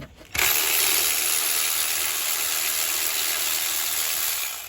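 A ratchet wrench loosens a bolt on a Dodge Ram alternator, starting with a sudden burst and then a loud, continuous mechanical rattle close at hand for about four seconds.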